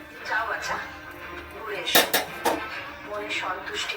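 Metal pot and lid clatter during cooking of a goat meat curry, with a sharp clang from the lid settling onto the pot, followed by lighter clinks, heard close amid soft kitchen noise and a voice talking.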